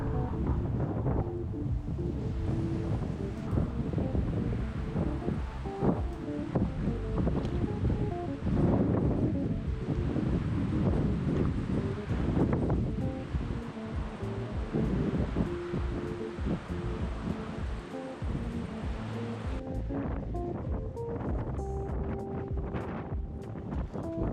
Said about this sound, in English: As you can see, it was very, very windy up there.